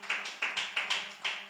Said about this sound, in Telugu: గట్టిగా చప్పట్లు కొట్టవచ్చు కూడా.